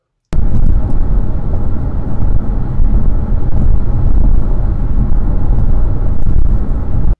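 Inside a 2016 Mazda 6 Touring at highway speed, steady low road roar from the tyres fills the cabin, loud and unbroken from start to finish with no talk.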